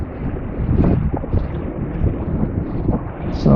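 Wind gusts across a sailing boat at sea. A rough, rumbling rush buffets the microphone, swelling and easing unevenly, close and fairly loud.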